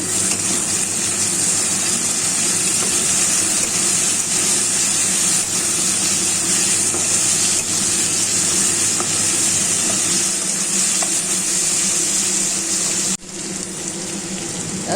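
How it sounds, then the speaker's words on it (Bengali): Potatoes with turmeric and salt fry in oil in a home kitchen, a continuous close, watery sizzle with no talk that drops away abruptly near the end. "স্বাদ মতো লবণ দিয়ে দিলাম দিয়ে বেশ আলুটাকে একটু লাল লাল করে ভেজে নিয়ে ভিজে নিচ্ছি"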